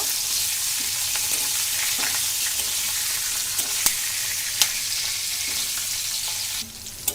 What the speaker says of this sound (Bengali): মরিচটাকে হালকা একটু ভাজা ভাজা করে নিব।